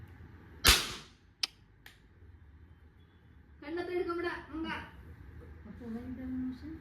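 A toy cap gun fires caps during Diwali celebrations: one sharp, loud crack, then a smaller snap a moment later, after which people talk.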